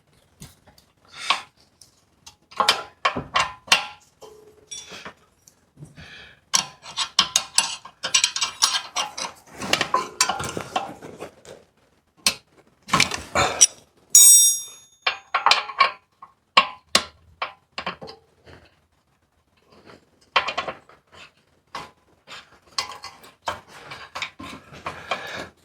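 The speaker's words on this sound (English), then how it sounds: "this is a 6mm Allen key" Ratcheting clicks and metallic tool sounds come from a 6mm Allen key working loose the exhaust bolts on a motorcycle, close and fairly quiet, in irregular bursts with short pauses between.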